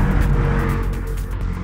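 Porsche 718 Cayman GTS with a turbocharged four-cylinder engine, larger turbo and revised intakes, a loud, steady engine drone close to the microphone that holds for nearly two seconds.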